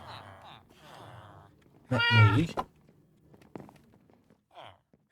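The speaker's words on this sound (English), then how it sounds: "admire a weird cat with me" A cat meows a few times in Minecraft Bedrock, short synthetic mews near the start, one loud cry in the middle and a brief one later, with game footsteps and someone talking.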